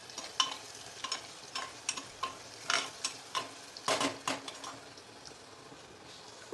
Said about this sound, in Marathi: त्याच्यामध्ये टाकणार आहोत कांदा कांदा चांगला परतून घेणार